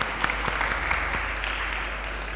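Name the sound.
audience applause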